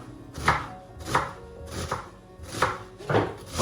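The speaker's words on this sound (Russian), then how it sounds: "Поэтому мы просто произвольно режем лук" A knife chops onion into rough chunks on a cutting board for pork sirloin skewers, five crisp, evenly spaced chops close by with short pauses between them and no talking.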